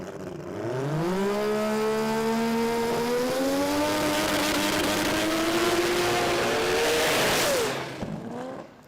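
A 20B rotary-engined drag car screams down the drag strip, its pitch climbing through gear changes for several seconds before the throttle lifts and the sound drops away.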